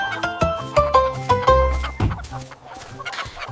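Chickens cluck and a rooster crows on a farm in a musical nursery-rhyme setting, with quick repeated clucks and calls sounding over a bouncy tune that then fades into softer, scattered notes.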